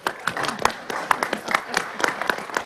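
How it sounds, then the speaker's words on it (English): An audience at a live stream applauds steadily, a sustained patter of many hands clapping at moderate volume for the whole stretch. "give him a round of applause of congratulations"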